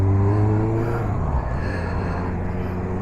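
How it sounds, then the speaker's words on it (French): Motorcycle exhaust picked up by a cheap helmet-mounted motovlog microphone, a steady low engine drone with strong low harmonics that drops in pitch about halfway through, close and loud over wind rush. "on entend assez clairement le pot d'échappement"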